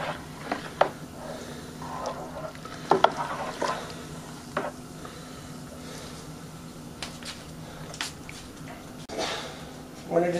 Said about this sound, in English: So I'm gonna stir that around.